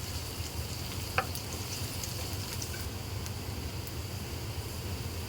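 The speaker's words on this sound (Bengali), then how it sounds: "পেঁয়াজটা একটু নাড়াচাড়া করে হালকা ব্রাউন করে নিব, হালকা করে ভেজে নেব" Onions frying gently in oil for a spicy Bengali potato dal, a steady soft sizzle that runs unbroken and close, with one brief tap of a utensil during stirring.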